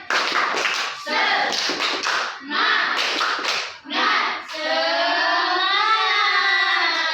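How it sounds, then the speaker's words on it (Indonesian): A classroom of pupils performs a rhythmic spirit clap in unison, with bursts of claps broken by short gaps, followed by a sustained chorus of voices shouting together. "Coba kita bareng-bareng ya. Tepuk semangat."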